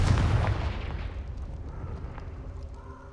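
A loud blasting-spell explosion from a wizard's duel in Hogwarts Legacy, a deep booming burst at the start that rolls away into a fading rumble with scattered crackles.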